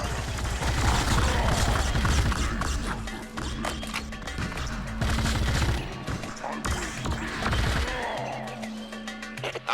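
Weapons fire crackles through a Brute Force video game cutscene in 2003 style, with dense rapid bursts of gunfire near and loud, easing mid-clip and then returning amid clatter and impacts.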